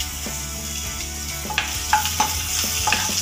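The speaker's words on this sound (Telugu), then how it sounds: "ముందుగా ఆయిల్ పోసుకుందామండి. ఆనియన్స్ వేసుకుందాము. ఫ్రై అవనిద్దామండి." Onions fry in oil in a pan for veg fried rice, a steady close sizzle with occasional sharper stirring scrapes and clicks over the crackle.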